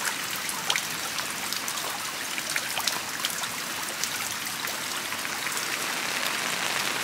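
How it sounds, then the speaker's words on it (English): Water drips from a sunshade into a backyard fish pond during rain, giving a constant hiss of falling drops with scattered sharper plinks and splashes, close and steady with no talking. "the sunshade that's over the pond is actually collecting some water and dripping it right into the pond"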